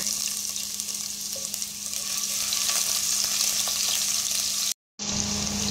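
Ginger sizzling and frying in a couple of spoonfuls of heated olive oil, a steady close crackle with stirring that runs continuously and breaks off briefly near the end before resuming.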